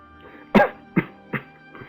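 Three or four short, sharp coughs in quick succession, the first loudest and the rest fading, close and dry with a faint background hum.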